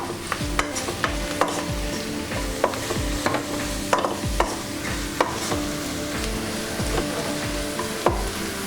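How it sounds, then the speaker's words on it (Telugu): Chopped fenugreek leaves tossed into a hot frying pan for methi chicken curry, a constant sizzle with regular sharp scraping knocks of a spatula stirring against the pan, close and without talk. "ముందుగా కట్ చేసి పెట్టుకున్న మెంతికూర వేసుకుందాం."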